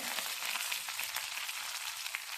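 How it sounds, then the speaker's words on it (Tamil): Mustard seeds crackle and pop in hot oil while a tempering is made for a chickpea sundal: a dense, steady sizzle with fine popping throughout, close and fairly loud, with no voices. "கடுகு நல்லா பொரிஞ்சிருச்சு."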